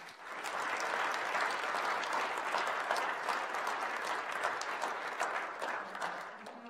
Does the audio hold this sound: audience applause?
yes